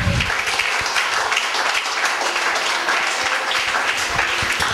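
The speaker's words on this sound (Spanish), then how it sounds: "brindale un fuerte aplauso" A church congregation breaks into loud, sustained applause during a sermon, dense clapping filling the room throughout.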